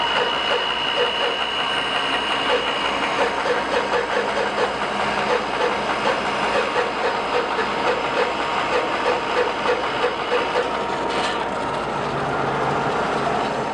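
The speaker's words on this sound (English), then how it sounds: "just got done on the bandsaw cutting out these lovely tenons" A bandsaw cutting wooden tenons gives a steady, moderately loud mechanical hum with a hissing blade, running continuously and evenly with no voices.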